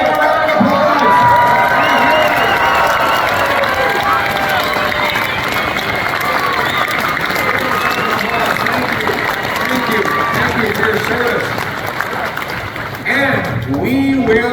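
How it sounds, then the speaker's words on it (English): Large crowd at a political rally cheering and applauding loudly, a sustained roar of whoops, shouts and clapping that holds steady throughout, with voices mixed in. "Give them a round of applause."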